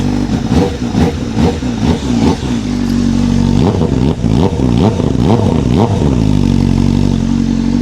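Honda CBR954RR Fireblade motorcycle engine revved repeatedly in short blips toward 3,000 rpm, loud and close, with rising and falling pitch sweeps over a steady idle.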